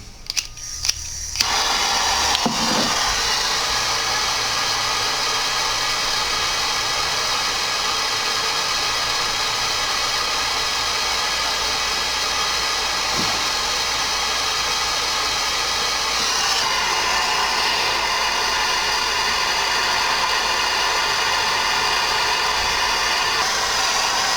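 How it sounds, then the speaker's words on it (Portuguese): A torch flame roars in a steady, loud hiss while heating a half-eternity jewelry ring for soldering. A few clicks come at the start as the torch ignites, and the flame then burns continuously with no speech. "Dou o fogo mais na ponteira do que na peça para não aquecer"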